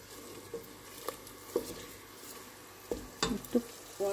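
Masala spice paste frying on low heat for a fish curry, a soft, quiet sizzle broken by occasional light stirring clinks and small pops, with a few scraping taps near the end.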